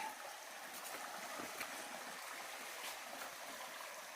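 Water rushes and trickles over rocks at the top step of Khoiyachora waterfall near Mirsharai, a soft, steady stream sound heard alone at a distance with no voices.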